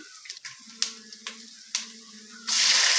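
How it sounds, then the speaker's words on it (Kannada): Green chillies drop into hot oil in a pan, with a few sharp spits and crackles followed by a sudden loud, steady sizzle close by; no one speaks. "ಇಲ್ಲಿ ಜೋರಾಗಿ ಕಾದಿದೆ ಹಾಗಾಗಿ ನಾನು ಕಬ್ಬಳ ಹಾಕಲಿಲ್ಲ ಮೆಣಸಿನ್ಕಾಯಿ ಹಾಕಿದ್ದೀನಿ ಫ್ರೈ ಮಾಡೋಣ"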